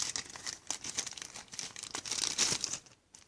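Close, crisp crinkling of small plastic zipper bags for miniature craft supplies being handled, a steady rustle of crackles that fades out at the end.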